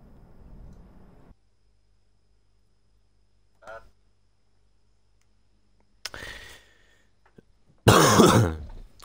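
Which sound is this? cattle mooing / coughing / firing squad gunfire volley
coughing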